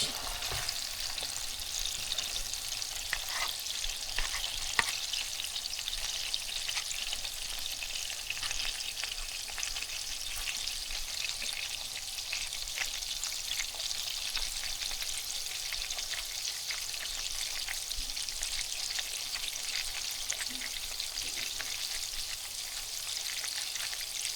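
Ground beef for Tex-Mex burritos browns in a frying pan, giving a continuous, even crackling sizzle close by that lasts the whole time with no talk.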